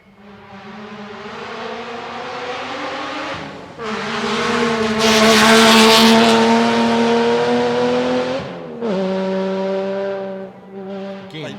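Rally cars drive a gravel forest stage of the Canterbury Rally at Mt Grey, Ashley Forest, with a continuous engine roar that swells and revs as a car approaches and passes, fairly loud with no voices.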